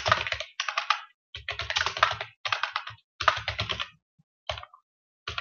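Close computer keyboard typing in clustered bursts separated by brief gaps, as a parameter name and its value are entered in a Qt reporting tool, crisp clicky keystrokes ending with a few isolated taps.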